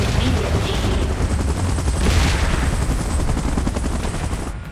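Helicopter in PUBG Mobile during a Mechagodzilla versus Kong and Godzilla game event, a loud continuous rotor drone and engine roar with faint crackling bursts that may be gunfire.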